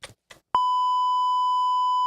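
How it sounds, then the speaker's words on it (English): Two short, faint bits of speech come first, then a loud, steady censor bleep tone sounds and holds unbroken to the end, masking a spoken name. "beep it. I'll tell you the name."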